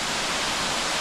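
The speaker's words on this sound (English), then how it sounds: "We are at the Blue Hole waterfall." A steady, dense roar of falling water, broadband and constant, like a waterfall heard up close, at Blue Hole Falls.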